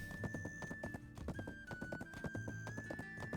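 Horse hooves pounding in a steady gallop inside a video game, a rhythmic clip-clop close and continuous over background game music, with no talking.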